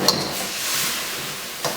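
Beef pad krapow heating in a pan, a soft steady sizzle with a light clatter of utensil against the pan at the start and another near the end, close and even.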